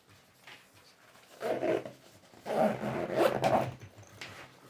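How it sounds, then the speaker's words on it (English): A zipper is pulled closed on an AER Slim Pouch tech organizer, two quick close zipping runs with a short pause between them, faint and nearby, no talking. "so I'm just gonna zip this up"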